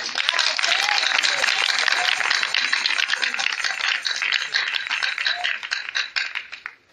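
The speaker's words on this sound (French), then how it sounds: "Je voudrais qu'on acclame puissamment le Seigneur." A church congregation bursts into loud, dense applause for the Lord, a rattling wash of many hands clapping with a few voices under it, sustained for several seconds before fading out.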